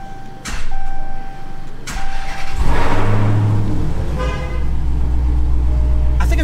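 A car horn toots in short repeated blasts, followed by a loud wailing electronic car alarm over the low hum of a Dodge Challenger Hellcat engine with its mid muffler deleted.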